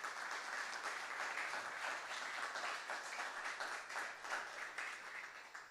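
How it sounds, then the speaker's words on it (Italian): Audience applause at a food excellence event in the Venice area, a sustained, even wash of many hands clapping heard from a moderate distance, without talk over it. "Facciamogli anche un applauso."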